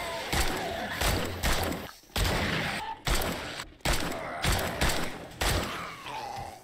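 Loud machine gun fire aimed at zombies in the survival game 7 Days to Die, heard as repeated bursts of rapid shots with brief gaps between them and no talk over it.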